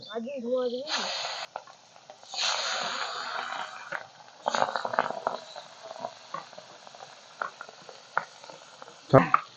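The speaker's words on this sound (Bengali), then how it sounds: "এবারে রুই মাছ ছেড়ে দিচ্ছি" Pieces of rohu fish dropped into hot oil in a wok, sizzling in uneven bursts with stirring clatter, close up, while someone talks over it.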